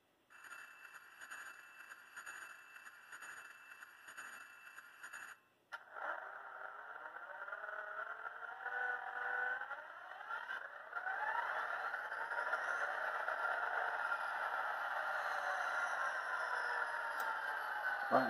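Tsunami2 sound decoder in an SD40-2 model locomotive starting up, a high electronic tone giving way after a short break to a rising diesel rumble and whine that settles into a steady drone, without talk.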